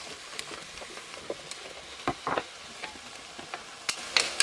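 Asparagus, zucchini and yellow squash sizzle steadily in a pan for soup, a soft crackling hiss broken by scattered sharper pops and utensil scrapes toward the end.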